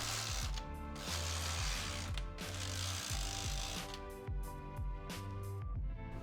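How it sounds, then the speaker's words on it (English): A domestic knitting machine runs its carriage back and forth across rows, producing repeated mechanical clacking, ratcheting and sliding passes in a steady rhythm, close and moderately loud with no voices. "we are going to start knitting, making sure our row counter is back at 0 and our tension dial is back at 5"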